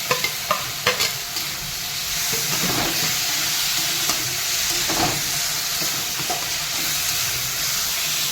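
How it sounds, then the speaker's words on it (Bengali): Fried mushrooms stirred through a spiced onion masala in a pan: a steady, close sizzle and hiss with a few scraping stirs of a spoon near the start, continuing evenly with no voices. "এবারে মাশরুম ভাজাগুলো দিয়ে একটু নেড়ে ছেড়ে দেবে"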